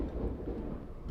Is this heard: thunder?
yes